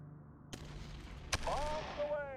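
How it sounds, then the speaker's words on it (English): Two sharp artillery blasts in the video game Shadow Empire, loud and close, the second followed by a whistling, warbling tone that rings out and fades. "Oh, there's a lot of artillery here."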